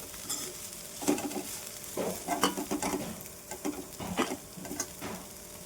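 Ridge gourd pieces frying in hot oil for a traditional chutney, a soft steady sizzle punctuated by repeated scraping and stirring bursts from a spatula, close and quiet with no speech.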